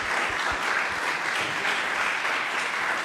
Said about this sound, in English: let's give Lucas a round of applause and our undivided attention